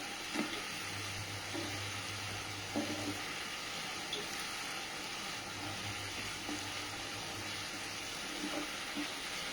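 Tomatoes and onions sizzle in a pan over a high gas flame, a soft, steady frying hiss with faint low hums and occasional light clicks, quiet and continuous with no talk.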